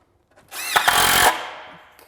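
A power drill drives a screw into a wooden fence brace with one short, loud whirring burst that rises and then winds down, close by.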